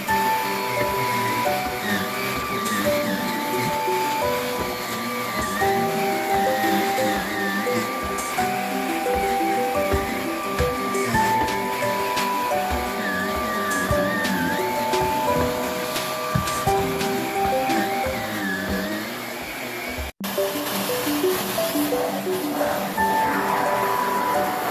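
A Shark Navigator Lift-Away bagless vacuum cleaner runs continuously over carpet, a steady close whirring drone with shifting tones as it is pushed, with a brief cutout near the end.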